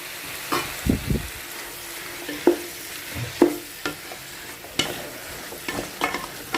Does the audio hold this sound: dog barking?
no